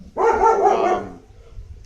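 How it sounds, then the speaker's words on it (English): A dog barks in a quick burst of loud, close yelps that trail off into room noise, with no voices. "That's actually my dog."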